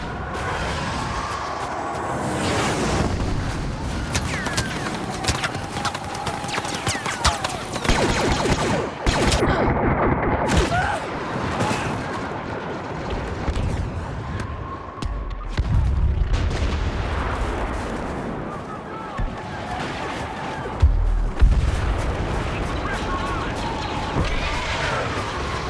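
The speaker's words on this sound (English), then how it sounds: "The rebels have called in a Y-wing attack" Y-wing bombing run in the Star Wars Battlefront video game, with dense bursts of blaster fire, booming explosions and crashes stacked into a loud, chaotic battle din that keeps going for the whole stretch.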